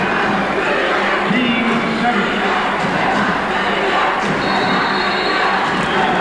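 Basketball crowd at a 1997 Division 2 boys' final between Shea and Portsmouth, a loud dense roar of stomping feet and cheering that holds steady throughout, with an announcer talking over it.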